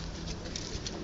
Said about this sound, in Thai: ตอนนี้ฝนจะตก โอ้ลงมาแล้ว